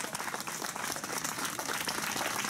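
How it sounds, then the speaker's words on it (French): Lively, close applause from an audience at an OGC Nice football camp gathering in Isola, with brisk, uneven clapping filling the whole moment. "vous pouvez les applaudir"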